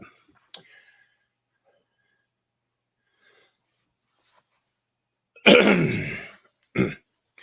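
A single harsh, throaty cough bursts out loudly after near silence, followed by a shorter second cough, with a faint click earlier.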